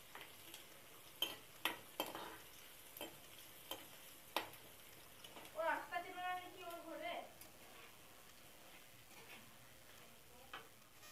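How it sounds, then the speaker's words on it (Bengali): Onions and dried red chillies frying in oil in a home kitchen, a soft sizzle under scattered clicks and taps of stirring, with a brief burst of louder spluttering midway. "ডাল সম্বার দেবো বলে পেঁয়াজ আর শুকনো লঙ্কা ভাজি বসিয়ে দিয়েছি"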